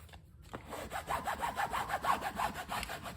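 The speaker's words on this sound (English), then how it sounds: "Let's get that adhesive well and truly spread out." A scraper spreads adhesive across fabric in repeated back-and-forth strokes, each pass a close, rhythmic rasping scrape, starting after a brief quiet moment.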